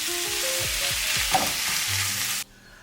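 Potatoes frying in a pan of vegetable oil and butter give a steady, close sizzle with soft stirring knocks, then the sound cuts off abruptly near the end.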